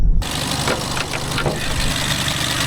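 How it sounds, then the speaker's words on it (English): Mercedes engine rattling on a test drive, a possible worn timing chain, with a steady, busy mechanical clatter and idle-like drone running continuously and close after a short quiet start. "I think we're gonna have to replace the timing chain at one point. Quite a bunch of rattling going on here."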